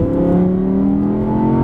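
A 2017 Audi R8 V10 Plus accelerates from inside the car, its engine a steady, rising drone with clear climbing harmonics, close and loud.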